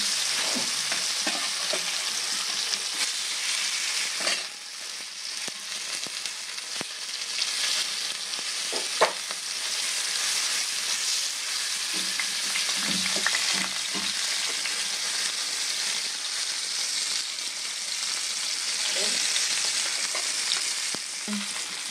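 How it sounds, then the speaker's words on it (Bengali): Sarputi fish fry in mustard oil in a pan with a steady, loud, close sizzle and occasional stirring scrapes throughout, with no talk. "আমি মাছগুলো ভেজে নেব"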